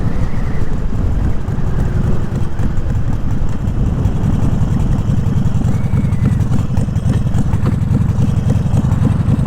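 A sport bike engine idles with a deep, steady growl, loud and close throughout with a constant low rumble and no talking.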